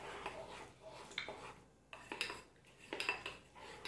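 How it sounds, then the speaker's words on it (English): Plaster mixture is stirred in a container to work out the lumps, producing faint scraping and light clinking strokes in an uneven rhythm, close by and quiet. "So we're going to mix it around, getting all the lumps out of it."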